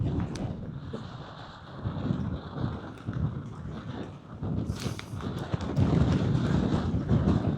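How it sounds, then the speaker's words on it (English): Strong, gusty mountain wind buffets the microphone in rough surges that rise and fall, swelling louder toward the end, with no voices over it. "That wind is biting."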